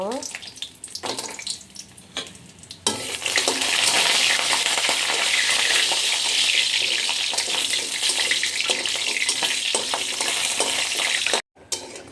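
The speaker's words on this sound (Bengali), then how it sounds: "এখানে আমি আগে বড়িগুলো ভেজে নেব" Bori lentil dumplings frying in oil in a pan, a few scrapes and stirs at first, then a loud, sustained close sizzle that cuts off abruptly near the end.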